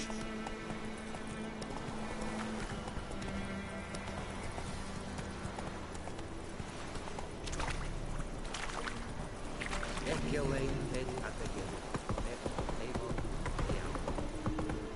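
Clip-clop of the horse Roach's hooves in Witcher 3, a steady trotting rhythm under music and ambient game sound, with a voice speaking over it.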